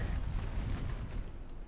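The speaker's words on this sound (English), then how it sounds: "I hear gunfire." Dense, rumbling bursts of heavy naval gunfire in a video game blend into a continuous low roar, loud and sustained throughout, with no voices.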